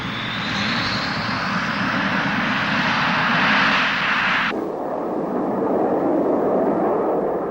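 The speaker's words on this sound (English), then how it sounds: "The R-29-300 engine gives tremendous performance at low level, combined with rugged reliability" A Soviet military jet powered by an R-29-300 engine roars past at low level at dusk. A loud, steady broadband rush dips sharply in pitch midway as it passes and recedes.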